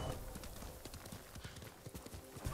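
Hoofbeats of a horse galloping in the video game Ghost of Tsushima, a steady rapid clip-clop running throughout with brief whinny-like accents, fairly close over a busy game soundscape.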